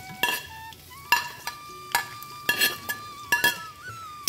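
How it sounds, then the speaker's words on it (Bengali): Chopped onions fry in oil with cloves, cinnamon, bay leaves and slit green chillies, a steady sizzle broken by repeated sharp scrapes and clinks of a spatula stirring against the pan. "ভালো করে পেঁয়াজটাকে একেবারে লাল লাল করে ভেজে নেবো মশলার সাথেই"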